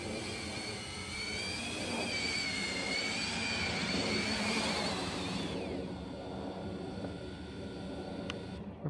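A fast quadcopter drone whines overhead and descends to land, its high-pitched propeller buzz loud and steady before dropping away into quieter outdoor noise.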